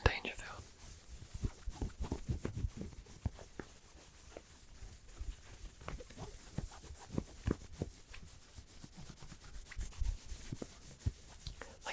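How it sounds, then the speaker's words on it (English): Soft scratching and rubbing on thin, soft fabric pants, a close, quiet run of irregular brushy strokes with small taps, steady for the whole stretch with no talk. "we'll get some fabric scratching going while I'm here"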